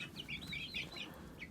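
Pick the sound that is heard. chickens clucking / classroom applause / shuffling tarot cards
chickens clucking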